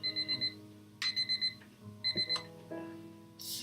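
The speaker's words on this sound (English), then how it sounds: "The same alarm tone that Harry can sleep through." An alarm clock tone from the video game Fragments of Him rings in three bursts of rapid electronic beeps, each group of four or five pulses repeating about once a second, clear and alone with no talking.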